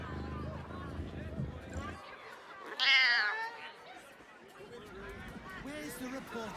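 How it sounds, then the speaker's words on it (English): A cat meows in Baldur's Gate 3, one loud, rising cry midway through, preceded by a dense stretch of game audio and followed by softer background sound. "The cat seems to be trying very hard to remain aloof, and not wholly succeeding."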